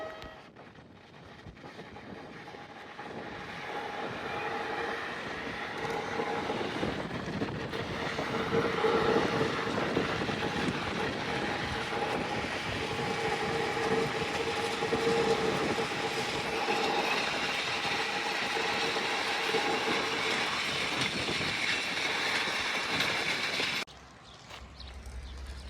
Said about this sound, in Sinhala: මේක තමයි අපි ආපු ට්‍රේන් එක. මේක තට්ටු දෙකේ ට්‍රේන් එකක්.